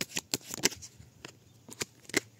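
A deck of tarot cards being cut and shuffled by hand, a series of quick, sharp riffling flicks and slaps in short bursts, close and crisp, with brief pauses between.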